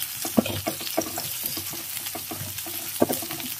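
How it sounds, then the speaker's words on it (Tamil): Onion and green chili frying in a hot pan for a fish and greens stir-fry, a steady close sizzle broken by several sharp clatters of a spoon stirring against the pan, with no voices. "வெங்காயமும் பச்சை மிளகாயும் போட்டுறேன். இந்த வெங்காயம் வந்து ஓரளவு வதங்க ஆரம்பிச்சிருக்கு."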